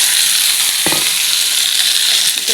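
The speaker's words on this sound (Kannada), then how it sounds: "ಚೆನ್ನಾಗಿ ಫ್ರೈ ಮಾಡ್ಕೋಬೇಕು." Chopped onion, green chili and tomato fry in a pan as the base for an egg masala. A loud, continuous hiss stays close, broken by a short clatter of stirring.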